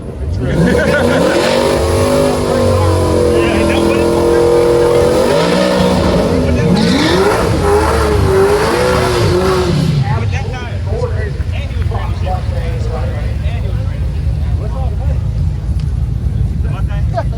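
An SN95 or New Edge Ford Mustang with an automatic transmission accelerates hard down a drag strip, its engine roaring loudly as it revs and shifts, then fading into crowd noise and nearby chatter.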